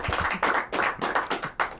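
A studio audience claps for a co-host on a live show, in short bursts of close, fairly quiet clapping that stop and start again about five times.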